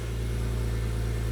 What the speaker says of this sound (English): See the exhaust? I think you can hear a bit more burble.